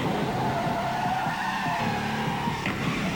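A BMW 528e brakes hard with anti-lock brakes, its tires skidding and squealing in one continuous, loud, close screech with a high tonal whine over broad road noise.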